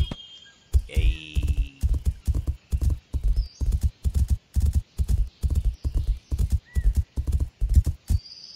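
In the game Horse Academy, a horse gallops toward jumps with steady, rhythmic clip-clop hoofbeats. The strides are close and loud and keep going the whole time, with brief higher tones and a faint whinny-like sound above them.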